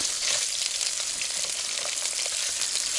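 Sausages sizzle steadily in a hot pan at a taiga campsite on a sand spit, a dense continuous crackle and spatter with no voices.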